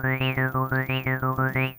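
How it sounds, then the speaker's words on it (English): Halion 7 synthesizer with its filter cutoff swept by a free-running triangle LFO: a buzzy sustained tone rising and falling in a steady wah-like cycle, with rapid repeated notes pulsing underneath, loud and unaccompanied. "you can hear that LFO basically free running in the background."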